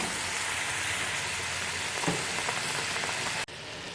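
Steady sizzling and bubbling of gooseberry curry cooking in a pan with added water, loud and close, with a brief clatter near the end.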